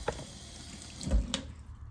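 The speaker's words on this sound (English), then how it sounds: "Let's run it under water, see how absorbent it is." Tap water runs briefly over a natural coconut cellulose kitchen scrub sponge, a soft close splash and gurgle with a small drip, no voices.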